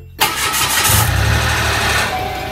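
A Mitsubishi Mirage hatchback engine cranks and catches after a brief quiet moment, then settles into a steady, close idle with a low rumble for the rest of the short stretch.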